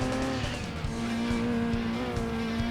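In Gran Turismo 2, a car drifts through a rally stage hairpin with a sustained high tire squeal over a steady, strained engine note, loud and close.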